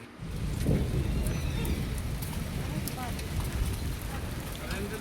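Rain mixed with hail falls outside a village home, a dense steady patter and hiss of drops striking surfaces, with voices talking faintly beneath it.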